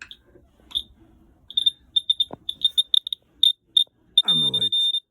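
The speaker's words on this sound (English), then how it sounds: "Buzzer." A boat's oil pressure warning buzzer sounds in short, shrill, high-pitched chirps that come intermittently, then settles into a longer sustained tone near the end, with a brief voice underneath.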